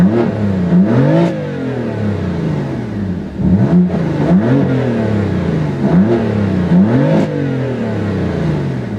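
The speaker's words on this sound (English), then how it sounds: "And now with the exhaust fully open" A 2015 BMW M3 sedan's engine revs repeatedly with the exhaust fully open, rising and falling in four loud, sharp sweeps with crackles between them, heard up close with no talking.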